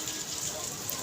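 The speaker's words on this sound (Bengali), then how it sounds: "টিপির টিপির টিপির টিপির টিপির টিপির বৃষ্টি হচ্ছে" Steady rain falls on a street, making a continuous even hiss of drops throughout the brief moment.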